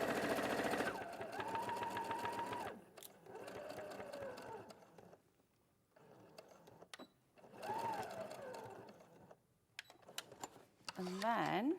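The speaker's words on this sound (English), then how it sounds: "we'll just start sewing from there. We'll go all the way along." Domestic sewing machine stitching a quarter-inch seam in bursts, running steadily, pausing, then resuming, with a person speaking over parts of it.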